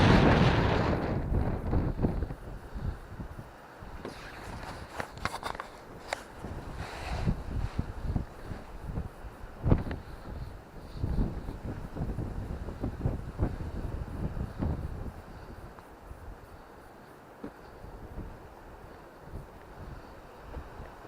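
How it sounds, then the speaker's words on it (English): Strong westerly wind on an outdoor ramble buffets loudly in gusts, rumbling and roaring against the microphone throughout without speech. "A very strong westerly wind"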